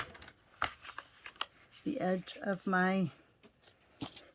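Cardstock is scored at five and a half inches on a paper trimmer, giving a run of light scraping clicks and short strokes close by, with a voice speaking briefly in the middle.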